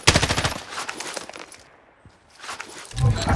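Rapid automatic gunfire in a Call of Duty multiplayer match, a dense burst of shots at the start that fades into quieter game ambience before more loud shooting returns at the end.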